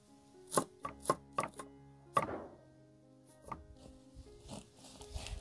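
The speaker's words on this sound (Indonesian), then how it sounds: "Lanjut iris-iris juga cabainya." Chilies being sliced with a knife on a cutting board, a run of sharp, close chopping knocks at uneven intervals, then softer scattered taps, no talking.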